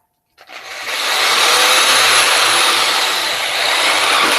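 A power drill bores into an unclamped part, starting abruptly and rising to a loud, steady high whine that holds for several seconds with a slight wavering near the end.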